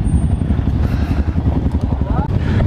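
Many motorcycles, including WR155 supermoto bikes, idle and rumble together at a gathering near Lembang, a dense, continuous low engine drone with voices talking over it.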